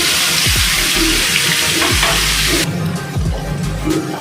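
Ginger, chili and onion paste sizzles and fries loudly in a pan with steady, continuous crackle, while repeated scraping strokes of stirring recur every second or so throughout.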